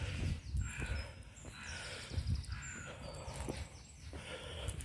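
Crows caw while chasing magpies off, outdoors in a wooded area where pigeons are also about; scattered calls ring out over a steady bed of rustling outdoor noise.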